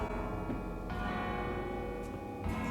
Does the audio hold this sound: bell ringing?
yes